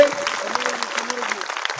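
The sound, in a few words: audience applause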